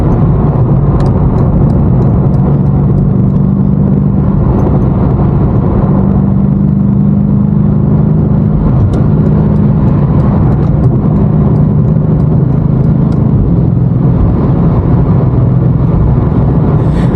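A 617 hp BMW M5 Competition driving hard through New York City traffic, its engine a steady low rumble with broad road and wind roar throughout, loud and close from inside the cabin, no talking.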